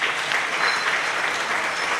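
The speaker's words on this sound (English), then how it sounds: "Let's give a hearty clap to" A conference audience at a scientific wildlife gathering applauds steadily, a dense, even wash of many hands clapping close by for about two seconds with no talk over it.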